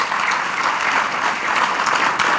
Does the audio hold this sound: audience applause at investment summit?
yes